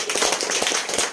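Audience at a children's programme in a home gathering breaking into loud, dense applause, many hands clapping at once in a steady, continuous wash.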